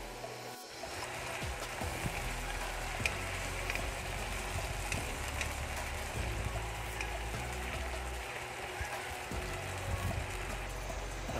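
Beef and jumbo shrimp stir-frying with mixed vegetables in a Szechuan stir fry, a steady close sizzle and crackle with scattered scraping and clacking of a utensil against the pan, no talk.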